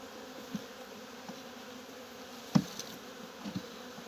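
Anatolian honeybees hum around an open hive during a late-October pre-winter inspection, a soft steady drone with a few louder buzzing passes and light knocks close by, no talking.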